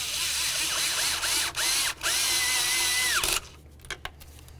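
A power drill driving a 10mm socket tightens the EGR valve bolts on a 2009-2020 Dodge Journey, whining up and down in several close, loud bursts before stopping, followed by a few quiet clicks.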